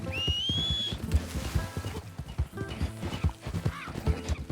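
Mule hooves clip-clop steadily in Red Dead Redemption 2, a rhythmic walking gait mixed with game sounds and a horse whinny, with a brief whistle near the start.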